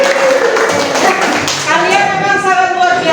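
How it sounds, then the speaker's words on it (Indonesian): Students in an Indonesian classroom lesson on silage clap briefly and close by, a quick burst of hand claps that gives way to a voice speaking. "Oh ya, tepuk tangan."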